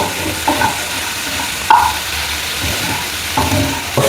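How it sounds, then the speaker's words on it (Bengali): Capsicum stuffing stirred in a pan, a soft continuous sizzle with occasional light scrapes and taps of a spatula against the pan, fairly close and steady with no voices. "ক্যাপসিকামের যে রংটা সেটা হালকা ট্রান্সপারেন্ট হওয়া পর্যন্ত আমরা এটা নাড়াচাড়া করব"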